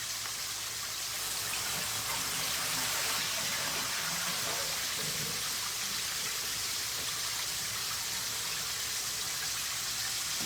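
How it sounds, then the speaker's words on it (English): Water from boiled cabbage pours out of a pot, draining into a sink as a steady rushing stream that runs the whole time at an even level. "So let me drain this water off my cabbage."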